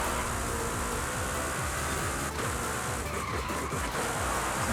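A car in Forza Horizon 5 racing on the OldCrow Forest Hill course, engine roaring steadily with tire noise and a brief skid through a handbrake turn, dense and continuous.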